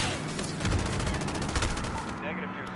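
Dense gunfire from Call of Duty Modern Warfare, a loud, continuous stream of overlapping shots and heavy bursts that sounds like a close firefight, with a voice speaking briefly over it.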